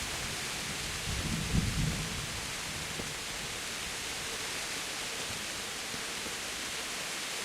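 Constant heavy rain in a video game hisses evenly throughout, and a low roll of thunder swells briefly near the start before fading back into the downpour.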